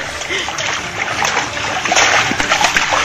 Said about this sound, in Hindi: देखिए कैसे इन जुड़वा भाइयों को उनकी मां ने पानी के अंदर तक डुबो रखा है।